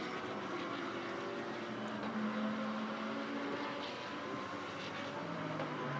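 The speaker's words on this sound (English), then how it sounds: "The number 29 Audi over the crest on the run from turn 10 down to turn 11." A number 29 Audi GT race car runs over a crest between turns 10 and 11 at Motegi circuit, its engine a steady, fairly distant drone with shifting pitch, no talking heard.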